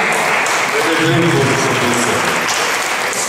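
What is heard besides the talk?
audience applause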